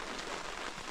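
Rain falling steadily on a surface, a dense, even patter heard close for a brief moment with no voices.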